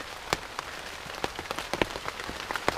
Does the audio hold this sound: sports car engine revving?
no